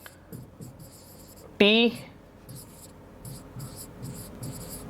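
Pen scratching out a sentence by hand in short, soft strokes, close and steady, with someone speaking briefly partway through.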